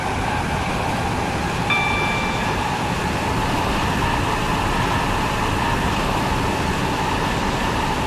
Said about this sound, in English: This train is now approaching Morganstown Docks.